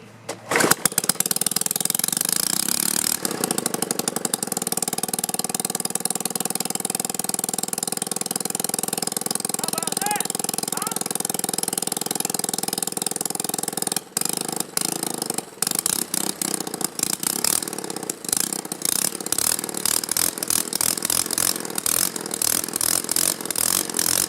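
Stihl 4-Mix small engine running with its muffler removed, a loud, harsh, steady close-up roar that holds throughout, with choppy sputtering pulses in the latter half and no speech.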